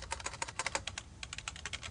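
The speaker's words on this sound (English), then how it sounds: "I'm just going to start by typing name and then colon" Rapid, light clicking of keys on a computer keyboard, a quick uneven run of close, quiet keystrokes with no voice.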